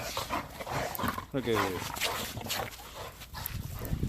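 Several dogs bark and whimper outdoors during a snowstorm, their yips and whines mixing with someone talking nearby.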